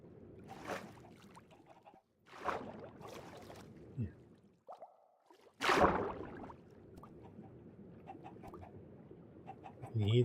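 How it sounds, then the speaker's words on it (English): Chickens cluck in a Minecraft survival world, short bird calls scattered among louder bursts of game noise and a few rustling movements, spread across the clip with gaps of near-quiet between them. "You hear the chickens."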